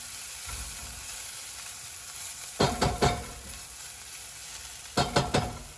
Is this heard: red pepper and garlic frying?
yes